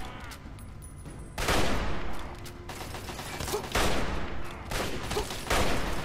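Sustained gunfire in the Fallout 3 game, rattling volleys and shots that swell in several loud waves over a continuous noisy background, with no voices.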